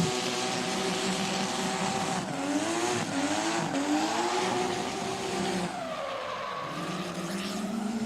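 A drift car sliding sideways on a track during a drift competition qualifying run, with continuous loud tire squeal and engine revs rising and falling through a transition.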